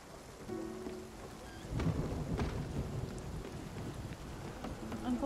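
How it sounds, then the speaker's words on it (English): Thunderstorm in the video game Spiritfarer: steady rain patters throughout while a rumble of thunder swells in the middle and lingers, with a soft tonal game sound drifting underneath and no talking. "Uncle O'Toole's thunderstorms."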